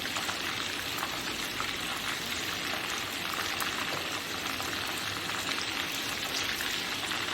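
Beef seekh kababs frying in oil in a pan, a steady dense sizzle with crackling pops that holds evenly from start to end, close and alone with no talk.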